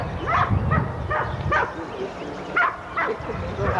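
A Rottweiler barks in a string of about six deep, loud woofs at close range, spaced unevenly over a few seconds with faint background noise between them.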